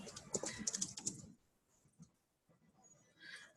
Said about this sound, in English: I'm going to type in the title